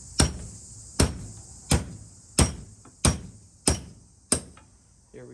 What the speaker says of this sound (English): we're gonna take our hammer and a chisel